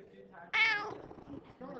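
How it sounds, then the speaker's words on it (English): One short, bright meow from a cat cuts in near the middle, close and clear, with quiet speech-like sounds around it. "That's a meow."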